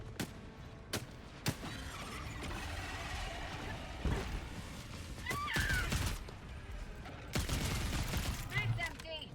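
Gunfire in Helldivers 2: sharp shots and bursts crack out across the mix amid busy game noise, with talk over parts of it.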